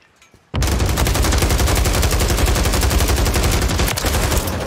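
Loud, sustained rapid automatic gunfire erupts suddenly in a video game after a near-silent moment and continues as a dense, close stream of shots.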